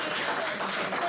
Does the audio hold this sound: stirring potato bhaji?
no